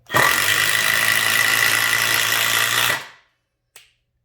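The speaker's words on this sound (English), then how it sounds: "This is their 1/4 inch impact driver, the 24 volt series." A 24-volt cordless 1/4-inch impact driver roars at full speed for about three seconds with a harsh whine, then cuts off abruptly, followed by a short click.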